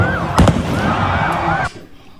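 Fireworks go off amid street chaos as crowds fill the road and cars do donuts: a couple of sharp bangs early on, over a loud, wavering, siren-like wail and crowd noise that cuts off abruptly near the end.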